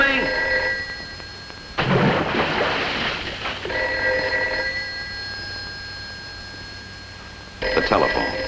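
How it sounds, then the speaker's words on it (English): A telephone bell rings in short repeated bursts, loud and close, broken by a stretch of rain-like rushing noise before the ringing resumes and another burst of noise ends it. "Of all the cockeyed times for the phone to ring."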